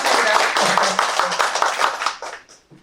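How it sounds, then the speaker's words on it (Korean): A seminar audience gives hearty applause, a close, dense burst of clapping that swells and then dies out after about two and a half seconds. "우리 이참에 박수 한번 크게 쳐주세요"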